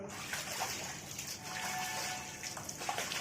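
Heavy monsoon rain pours steadily onto a flooded home courtyard, a dense, even wash of falling water and splashing with no pauses.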